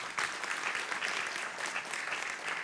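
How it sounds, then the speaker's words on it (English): A large audience applauds loudly and continuously, a dense wash of clapping that starts abruptly and holds steady throughout. "you may give them a tremendous round of applause"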